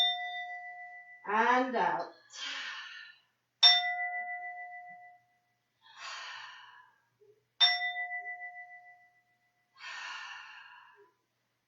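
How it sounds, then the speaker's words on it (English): A meditation chime struck three times during a space-themed yoga warm-up, each strike a bright ringing tone with a long fading sustain, alternating with audible deep breaths; a voice speaks briefly at the start. "we take 3 deep breaths together with the chime"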